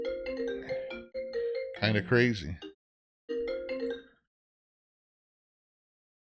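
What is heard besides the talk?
phone ringtone from an incoming call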